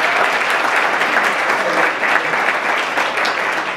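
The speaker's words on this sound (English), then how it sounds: "You guys know I don't let you get off without clapping for folks." Audience applause at a regional panel discussion in South Carolina, a dense, steady wash of clapping from a full room that holds at the same loud level throughout with no pauses.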